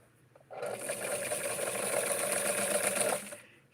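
A sewing machine stitches vintage flower power print fabric, starting abruptly and running as a steady, close, fast mechanical whir for about two and a half seconds before stopping.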